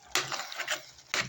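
A knife chops green pepper on a wooden board in a kitchen, giving three or four close, crisp cuts in quick irregular succession.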